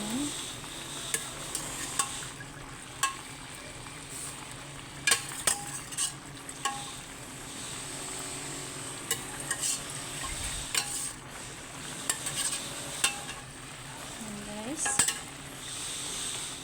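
Softened beef gets stirred into a pot of caldereta with potatoes and carrots, with a steady sizzle and repeated close clinks and scrapes of a spoon against the pan, and no talking.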